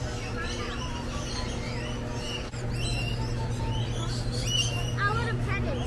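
Birds chirp and tweet around visitors inside an interactive walk-through bird cage as they flock in for food, steady busy calls over constant background hum, with people talking nearby throughout.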